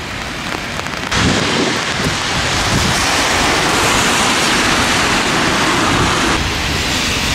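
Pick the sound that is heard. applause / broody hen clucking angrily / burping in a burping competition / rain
rain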